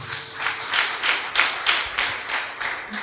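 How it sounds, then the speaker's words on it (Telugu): A church congregation at a Sunday service claps in praise, with rhythmic, evenly spaced group claps repeating steadily at moderate loudness, a faint voice and tone briefly beneath. "చప్పట్లో కూడా దేవుని స్తుతిస్తారు"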